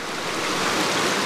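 A waterfall pours over boulders, giving a steady close broadband rush of falling water with no breaks.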